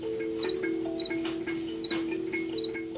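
Crickets chirp in steady repeating bursts, several short trills per second, over a constant low hum, moderately close and without voices.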